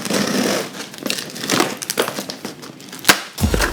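Strings being cut and pulled off the box of a Mackie DL16S wireless audio mixer during unboxing, close crinkly scraping and tearing with a sharp snap near the end.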